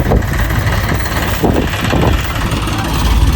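A vehicle engine runs loud and close with a rough, steady idle and faint rattling layered over it.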